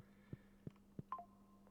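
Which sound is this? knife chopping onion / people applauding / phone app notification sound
phone app notification sound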